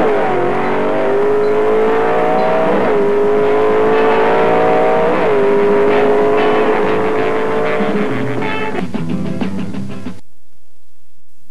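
A 427 Ford Thunderbolt drag racing car engine roars loudly through rising and falling revs, with gear-shift dips, for about ten seconds before cutting off abruptly.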